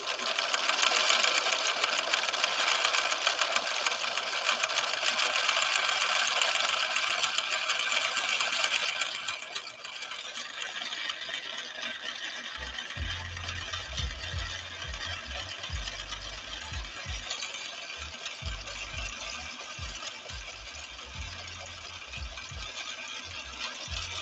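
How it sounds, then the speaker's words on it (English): A 1970s Viking Husqvarna Model 6030 sewing machine stitches a decorative Christmas tree pattern with a continuous bright whir. Partway through, a deeper rhythmic thumping joins as the needle works the pattern, and nobody speaks. "here goes our Christmas tree pattern, the final stitch on cam C."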